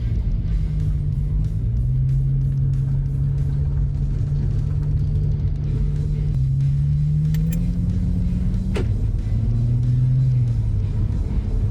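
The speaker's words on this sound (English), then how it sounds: "you're going to hear a bit of groan, a bit of grind from them to start with" A steady low groan with a faint grinding edge from new, freshly fitted brake pads and discs on an Audi S4 B9 drones under the car's rumble, its pitch wavering and shifting as it moves.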